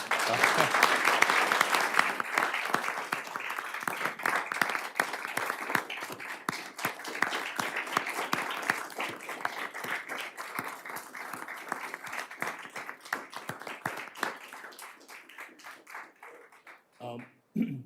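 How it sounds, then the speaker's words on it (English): Sustained applause rises from the audience at a board of trustees meeting, full and steady at first, then gradually thinning into scattered individual claps before fading near the end. "we don't mind a little round of applause"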